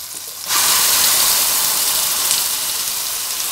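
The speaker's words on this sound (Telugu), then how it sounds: "మనం గ్రైండ్ చేసుకున్న ఆనియన్ పేస్ట్ వేసుకుంటున్నాం ఇప్పుడు" Ground onion paste dropped into hot oil on a medium flame, erupting after a brief pause into a loud, steady sizzling hiss that holds strong and continuous to the end.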